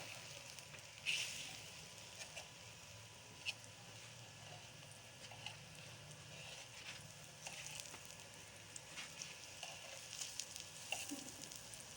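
Eggplant slices fry on a tawa griddle with a faint, steady sizzle, broken now and then by small pops and crackles from the hot oil.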